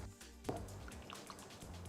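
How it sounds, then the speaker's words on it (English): Cashew milk poured into a tofu scramble in a home kitchen, a soft liquid splash with a brief sharp drip near the start, then faint wet trickling, quiet and close. "There's my exact measurement, 1 pour."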